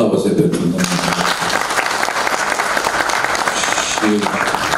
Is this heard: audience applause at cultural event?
yes